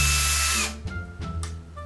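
A power drill bores a hole while a DIY nightstand is assembled, running loud and steady before stopping, with a few lighter knocks and tool handling sounds afterwards.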